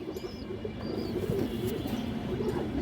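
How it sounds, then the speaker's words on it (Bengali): An Army breed female pigeon coos in low, rolling murmurs among other pigeons, with faint higher chirps in the background. "বড় সাইজের একটা আর্মি মাদি কবুতর আছে"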